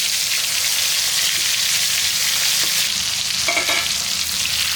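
Spiced eggplant pieces fry in hot oil with a loud, continuous sizzle and crackle, close up, with brief clinks of stirring and no talk.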